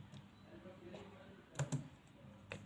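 A few quiet keystrokes on a computer keyboard, a soft pair of clicks midway and another near the end, over a faint room hum.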